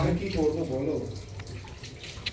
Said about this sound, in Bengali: চিকেনটা ধুয়ে দেওয়ার কাজে আছে মিমি